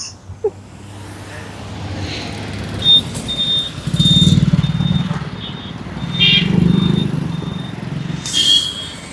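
Customers ride motorcycles away from a used two-wheeler dealer's lot, with engines swelling in two close revving passes over steady roadside traffic hum and faint voices.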